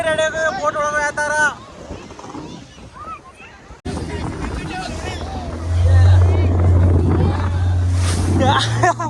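A boat's engine drones low and steady on the water, joined by wind buffeting the microphone and people talking over it.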